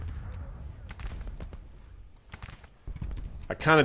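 Civil War field artillery in the strategy game Grand Tactician booming in scattered, distant-sounding blasts amid battle noise, while someone talks over it.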